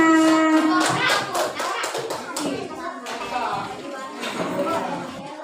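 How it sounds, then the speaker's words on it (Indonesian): Schoolchildren in a classroom clap their hands together at the teacher's prompt, a quick cluster of sharp claps over a lingering musical tone, then softer scattered claps amid children's voices. "Tepuk tangan buat kita semua"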